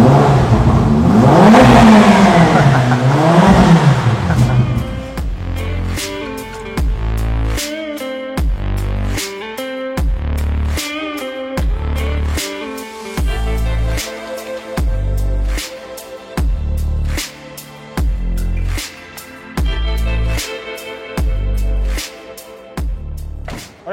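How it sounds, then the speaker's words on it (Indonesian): Ferrari engine revving hard through a new exhaust system, starting with a loud sustained roar and then a long series of evenly spaced sharp blips, each rev rising and cutting off, close and loud. "ini lebih kenceng karena sistem knalpotnya baru"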